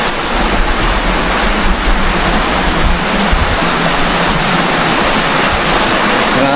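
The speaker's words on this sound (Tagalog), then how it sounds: "Napakalakas ng tubig. Tsaka ragasa ha." Strong water rushes down a mountain stream, a loud, constant roaring wash of broadband noise that stays close and steady throughout, with no voices over it.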